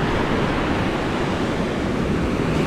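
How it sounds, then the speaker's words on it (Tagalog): Small waves wash in continuously on a murky sea, a broad, steady rush of surf close by with wind noise and no distinct individual breakers. "Ang ating dagat ay medyo malabo-labo pang tubig, pero maliliit ang alon niya."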